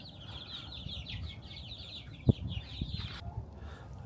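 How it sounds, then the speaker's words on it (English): Fluffy fancy chickens and young chicks cluck and chirp in a farm stall, high peeping calls repeating steadily at moderate distance, with one sharp knock partway through. "Look in the chicken stall here. Looks like they got some fancy chickens."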